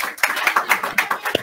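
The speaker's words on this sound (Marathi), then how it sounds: "टाळ्या" An audience clapping at a career guidance lecture, quick, evenly spaced claps repeating in a steady rhythm, close and fairly loud.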